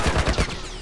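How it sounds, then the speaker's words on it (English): Rapid gunfire in The Last of Us cracks out in a quick cluster of shots aimed at the player, loud and close, then trails off into a short echo. "Shooting at us!"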